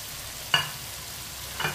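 Potatoes cut into long pieces and cooking with tinda in a pan, a low steady sizzle with two brief scraping stirs, quiet and close, no talking.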